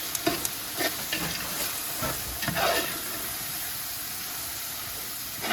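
A South African Durban-style breyani mixture of tomatoes and spices is stirred in a hot pot, a steady loud sizzle and hiss with repeated scraping strokes of the spoon, no talk.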